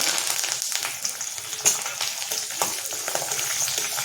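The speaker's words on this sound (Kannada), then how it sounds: "ಇದು ಈರುಳ್ಳಿ ಫ್ರೈ ಆಗಿದೆ" Chopped onions sizzle steadily in a hot pan, a dense crackling hiss broken by a few sharper pops and brief stirring scrapes, with no voices.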